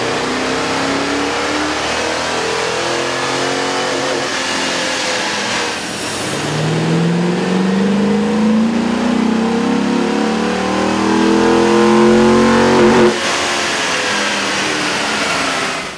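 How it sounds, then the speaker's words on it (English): A 1996–2000 Chevy 1500 pickup with a 5.0-liter engine and a cold air intake revs on a dyno. The engine climbs and falls in long rising sweeps, loud and near, with a steady mid-range drone and a sharp cutoff near the end. "we ran the vehicle on the dyno to test the sound comparison versus the stock intake"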